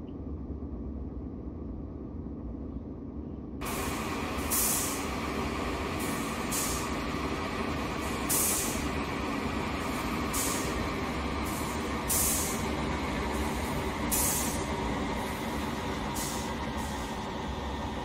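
A DB Fernverkehr ICE train in Train Simulator on the Copenhagen–Hamburg route, its turbodiesel engine running as a steady, loud rumble that swells after a few seconds, with a regular series of brief clicks and hisses on top.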